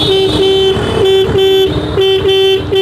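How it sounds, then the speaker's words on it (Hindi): A Honda Activa scooter's horn sounds in a series of short, loud beeps with brief gaps between them, right up close, over a steady engine hum. "तो हॉर्न भी बिल्कुल मस्त बज रहा है"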